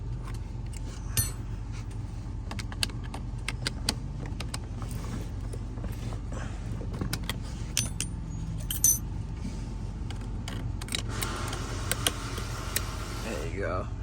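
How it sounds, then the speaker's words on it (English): Metal clicks and scraping as a flathead screwdriver pries up the retainer lock on a Toyota Camry emergency brake cable, a run of sharp taps and creaks close by over a steady low hum. "I'm gonna use my flathead. I'm gonna pry up the retainer lock."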